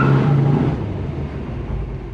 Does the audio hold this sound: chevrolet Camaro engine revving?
yes